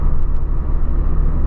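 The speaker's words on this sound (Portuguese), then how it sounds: "Esse caminhão de guincho aí anda pra caramba." A tow truck drives along a road nearby, its engine giving a steady, loud low rumble with rough mechanical churning throughout.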